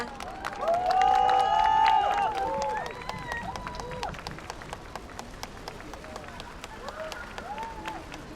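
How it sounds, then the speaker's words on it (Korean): A crowd applauds and cheers loudly as Seohyun of Girls' Generation comes on stage at a promotional fan event, with high shouts over the clapping before the noise eases into scattered clapping and chatter. "큰 박수 부탁드립니다."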